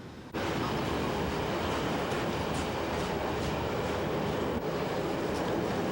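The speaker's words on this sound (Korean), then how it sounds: "경부선 열차가 숨가쁘게 달리기 시작했습니다" A Chinese passenger train runs on the Jingjiu railway in a steady, loud, continuous rumble of wheels on track, without pause, with no talk over it.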